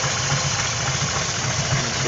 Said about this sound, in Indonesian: Ini suara mesinnya nih guys